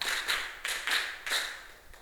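Students in a classroom clap in unison for a rhythm game, five crisp group claps in an even, quick sequence, moderately loud and near.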